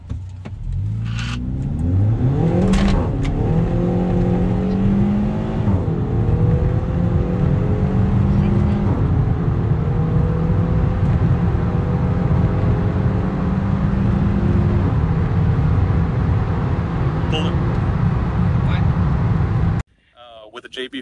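A car launches hard off the line at a drag strip, its engine revving and climbing steadily through the gears for about twenty seconds before cutting off abruptly, loud and close throughout.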